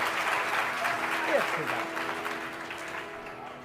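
Audience applause at a Ram Katha religious discourse, a broad burst of clapping that swells and then gradually fades, with a voice speaking over it.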